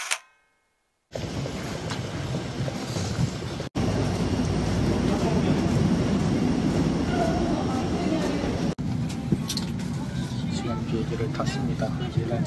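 Steady, loud airplane cabin drone during flight on a new Korean Air aircraft, a broad continuous rumble with brief cuts and faint voices in the background.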